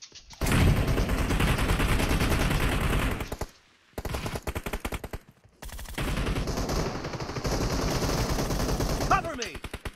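Rapid automatic gunfire in the PUBG Mobile battle royale game, loud sustained bursts broken by short pauses, with a faint voice and a reload clatter near the end.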